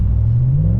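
Deep, steady exhaust drone of a 2019 Ram 1500 pickup with its muffler deleted, heard from inside the cab with the rear window open, a loud low rumble that holds for under a second.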